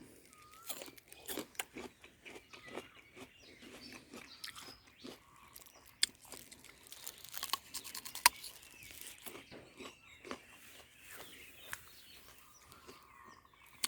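A homegrown jumbo jujube fruit bitten and chewed up close, with repeated crisp crunches over a quiet outdoor background where birds call faintly.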